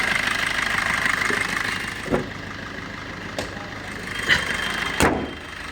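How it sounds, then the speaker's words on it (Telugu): A car engine idles with the air conditioning running, a steady low rumble close by with a few faint knocks and clicks. "ఏసీ రన్నింగ్లనే ఇంజన్ సౌండ్ ఇది చూడవచ్చు"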